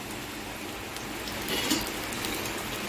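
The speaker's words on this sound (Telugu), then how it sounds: "ఇప్పుడు మా క్లైమేట్ చూడండి ఫుల్ వర్షం పడుతుంది" Heavy rain falls in a dense, steady hiss of drops striking surfaces, close and continuous throughout with no pauses.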